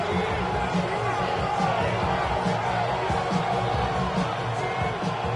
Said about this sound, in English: What about this crowd getting even louder before 3rd and 10?